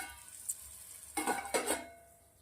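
Raw mango pieces go into a pan on a low gas flame, giving a soft sizzle followed by a few close scraping stirs of a spoon against the pan, then the sizzle settles back down.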